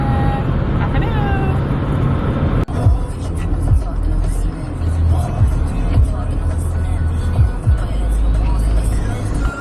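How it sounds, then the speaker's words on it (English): A bus rumbles with a loud, steady engine and road noise amid surrounding traffic, with a sharp knock early on and voices chattering in the background. "This is the bus."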